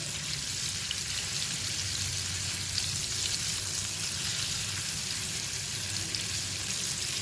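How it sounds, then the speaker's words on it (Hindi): Garlic sautés in a pan as the first step of a white sauce for pasta, giving a steady, even sizzle and crackle that holds at the same level throughout, close and with no talk. "लहसुन को सौते करेंगे ताकि इसकी स्मेल ख़त्म हो जाए"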